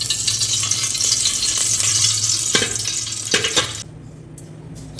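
Oil sizzles and crackles steadily in a hot pan while cooking Tamil Nadu style fish curry, with a few stirring scrapes, then the frying noise drops away sharply near the end.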